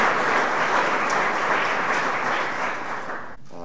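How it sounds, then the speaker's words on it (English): Steady, dense applause from an audience at a building dedication for the Oregon State Police, sustained and fairly close, fading slightly before a brief dip near the end. "So how about a round of applause to our permitting officials, our builders, our designers,"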